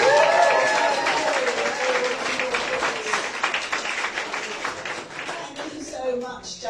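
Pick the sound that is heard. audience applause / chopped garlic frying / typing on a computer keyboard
audience applause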